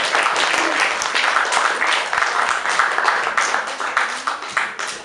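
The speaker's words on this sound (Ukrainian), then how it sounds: "Я запрошу команди на сцену. Під ваші оплески, звісно." A packed audience at a KVN comedy evening gives sustained, dense applause as the teams come on stage, loud and even throughout with no pauses.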